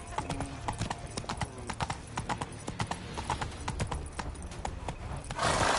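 Roach the horse gallops in The Witcher 3, hooves clip-clopping in a quick steady rhythm throughout, with a brief snort or whinny, while a voice talks over the hoofbeats.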